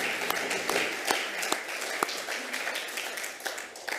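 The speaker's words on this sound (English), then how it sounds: "I want to give a big round of applause to adaptability and resilience personified in Marisa" Applause from a conference audience, with clapping that is moderately dense and steady, sharper individual claps standing out at irregular moments, continuing through the whole stretch with no voices over it.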